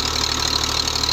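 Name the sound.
Farmer tractor engine running, made in Romania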